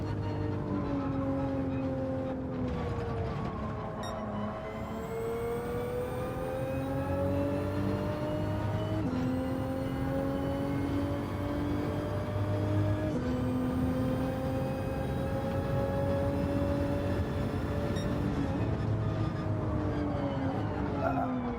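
Toyota Supra racing around Brands Hatch in a racing video game, its engine droning and revving steadily with rising and falling pitch through gear changes, loud and continuous throughout, with other car noise mixed in.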